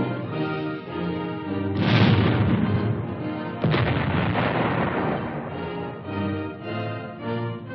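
Two heavy booming reports from a tank's fast-firing 76-millimeter gun roll out about two seconds apart, each a loud blast with a long rumbling decay, heard over old film-soundtrack music.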